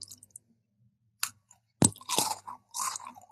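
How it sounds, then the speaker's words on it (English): Someone bites into and chews a thick, crunchy malted milk biscuit, giving several loud close crunches between quiet pauses. "Ooh, that's thick and crunchy."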